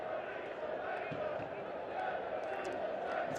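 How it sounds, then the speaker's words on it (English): Home supporters at a Louisville City FC versus Rhode Island FC football match chanting about the referee, a dense sustained crowd roar heard from a distance, steady throughout with no clear individual voices. "The crowd have a certain little chant there that's reflective of their views on the referee"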